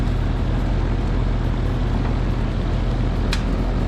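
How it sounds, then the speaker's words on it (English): Loud, steady mechanical roar and hum from an outdoor unit where a Copeland compressor with a locked rotor strains to start while the condenser fan runs, a dense constant drone with one brief high squeal near the end. "You can hear that compressor trying to start"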